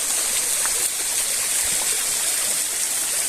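Water pours from above and splashes down into a small lake at Kalar Kahar, a steady, close, full rushing sound with no break.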